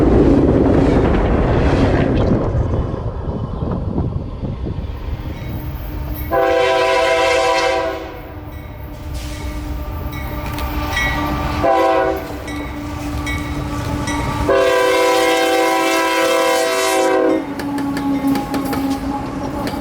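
Freight train 0823 led by a pair of AC4400 locomotives rumbles past close by, its horn sounding loudly in several long blasts over the steady roar of the engines and rolling cars.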